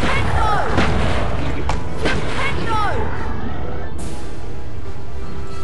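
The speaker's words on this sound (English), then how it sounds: "Weirdest artillery I've ever seen." Artillery-style spell blasts in the Harry Potter and the Chamber of Secrets PC game, a few loud booming hits with sweeping whooshes over constant game noise.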